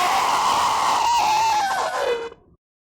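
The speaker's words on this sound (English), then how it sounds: "Her shriek of rage, as she's shut out by the powerful wards of Graven Hollow, echoes in your mind" A creature's shriek of rage as a sound effect, a single sustained, harsh, loud cry with a falling pitch that cuts off abruptly after about two and a half seconds.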